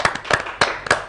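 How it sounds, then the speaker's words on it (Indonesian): Audience applause for two speakers, Rifka and Adit, at a campus talk event on environmental conservation: a brief burst of several loud hand claps in an uneven rhythm, close and crisp. "Kita berikan aplaus buat mereka berdua yuk."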